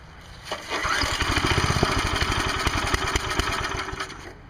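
A Briggs & Stratton 5HP small engine, choked and primed with starting fluid, cranks and sputters into a rough, uneven run with rapid firing pulses, close and fairly loud, before fading near the end.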